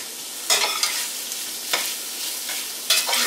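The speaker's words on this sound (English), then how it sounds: "I'm kind of like tossing it so that it folds into the spices rather than mixing it in a circular motion." Cod pieces tossed with spices in a hot pan for curry fish, a continuous sizzle with bursts of louder scraping and hissing as the fish is turned and folded, close and clear with no talk.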